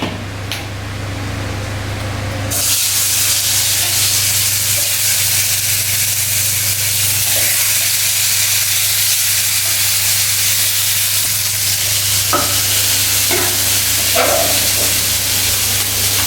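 Eggs and potatoes frying in a pan give off a loud, steady hiss and crackle that bursts in after a quiet start and keeps sizzling evenly to the end.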